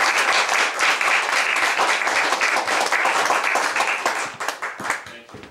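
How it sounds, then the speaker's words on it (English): Audience applause fills a Dixieland jazz show at a bar, dense clapping and some cheering holding steady for several seconds before thinning out near the end. "Let's give a big round of applause to the Stump Brothers and the whole Dixieland Jazz here."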